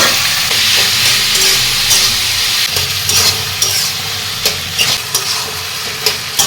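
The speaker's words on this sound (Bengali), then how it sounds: "এখন আমি এই চিংড়ি মাছ পেঁয়াজ রসুনের মধ্যে কচুর ফুলটা দিয়ে দিলাম" Taro flowers fry in a pan with prawns, onion and garlic, giving a loud, steady sizzle with scraping stirring clatter and a few sharp utensil knocks close by.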